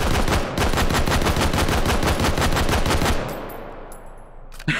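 Rapid semi-automatic fire from a PSG-1 rifle in the VR shooter Hot Dogs, Horseshoes & Hand Grenades: about a dozen loud, evenly spaced shots for three seconds, then a fading echo tail and one last click-like clack.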